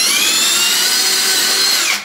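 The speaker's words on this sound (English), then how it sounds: "So just watch yourself if you're drilling this hole." A power drill bores a hole in a Telecaster guitar body, a loud, steady high-pitched whine lasting about two seconds alone before it starts to wind down.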